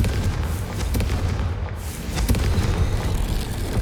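Deep booming rumble of a Confringo blasting spell explosion in the video game Hogwarts Legacy, with heavy low-end impacts and crackling debris rolling on continuously.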